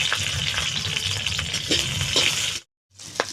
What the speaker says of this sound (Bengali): লঙ্কা আমি ভেজে নেবো কাঁচা লঙ্কা